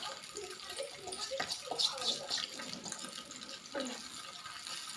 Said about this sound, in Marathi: उकळी आली छान पाण्याला, आता मी भगर टाकून घेते आहे